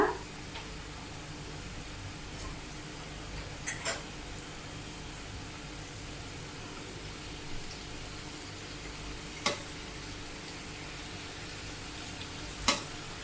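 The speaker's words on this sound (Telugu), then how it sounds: "ఇలా కలుపుకుంటూ వేయించుకోవాలి" Jaggery kommulu snacks sizzle and fry in a pan over a low flame, a steady soft crackle broken by a few louder scrapes as they are stirred.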